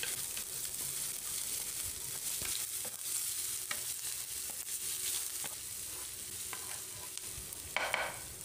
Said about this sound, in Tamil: இது ஒரு 30 செகண்ட் ஃப்ரை பண்ணிக்கலாம்.